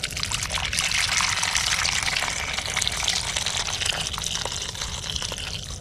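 Water pours out steadily in a continuous trickling, gushing stream while whitebaiting, loud and close with no voices.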